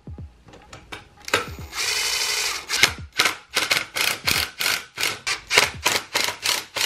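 A power drill drives big screws into an outlet box on a DJ truss totem, with close, loud bursts of whirring, one sustained run, then a rapid series of short pulses.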